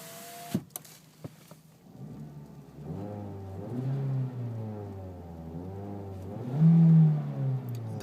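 A 2012 Ford Focus with a manual transmission, started from a couple of clicks, then its engine revved repeatedly, the pitch climbing and falling in several swells, close and moderately loud.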